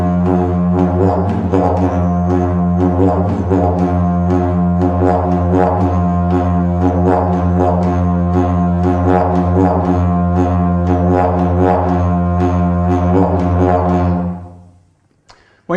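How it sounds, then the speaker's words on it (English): Didgeridoo playing a steady rhythmic drone, pulsed from the diaphragm and accented with cheek slaps, loud and close with a regular beating pattern, continuous for about fourteen seconds before fading out. "I'm going to try that beat again with the diaphragm, but this time we're going to add in some cheek slaps"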